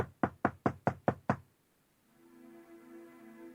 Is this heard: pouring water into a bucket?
no